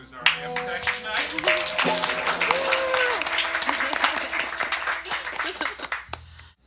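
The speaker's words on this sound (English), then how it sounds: "Let's give a round of applause for Ryan, who's our amp tech tonight" A small audience at an indie concert claps steadily and briskly for several seconds, a dense close-up patter that rises and then thins out. A few voices call out among the clapping.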